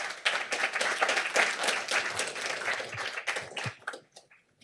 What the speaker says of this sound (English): Big round of applause for King.